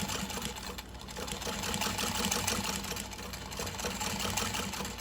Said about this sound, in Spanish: bajo el prensatela y vamos a dar la próxima costura